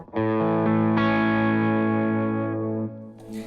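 Electric guitar with hugely powerful Seymour Duncan pickups played through a Keeley Filaments distortion pedal, a loud sustained chord ringing thick and saturated, restruck once, then fading with a brief noisy scrape at the end.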